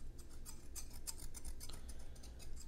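A pair of scissors being handled close up: a quick run of crisp metallic snips and clicks in an uneven rhythm over a low, soft background, with no talking.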